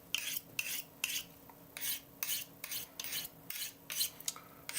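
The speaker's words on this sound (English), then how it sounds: "what can you do in just a few minutes with a field sharpener" Knife being sharpened on a field sharpener with Lansky angled rods, rhythmic rasping strokes, about a dozen close, even scrapes with short pauses between them.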